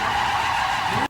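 A BMW E28 street drift car with a V8 slides sideways, its tires squealing in a sustained, loud skid that cuts off abruptly at the end.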